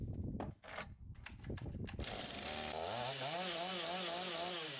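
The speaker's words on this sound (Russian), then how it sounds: "Заводим пилу." A chainsaw is pulled and sputters a few times, then catches and roars into a loud, steady idle with wavering pitch.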